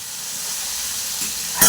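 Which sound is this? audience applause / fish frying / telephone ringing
fish frying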